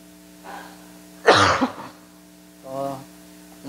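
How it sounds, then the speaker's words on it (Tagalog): A single harsh throat-clearing cough, close and loud, with faint murmuring before and after it. "So nang ubo-ubo tayo"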